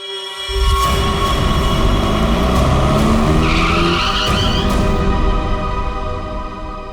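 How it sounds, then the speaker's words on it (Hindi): A car brakes to a sudden stop in the middle of a road, its tires skidding in one loud, sustained screech that lasts several seconds before easing off. "बीच सड़क में गाड़ी क्यों रोक दी?"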